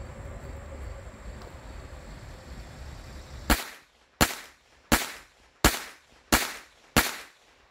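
Galesi .25 ACP pistol fires six sharp, loud shots at a steady pace about 0.7 seconds apart, each crack ringing out briefly, after several seconds of low outdoor wind rumble.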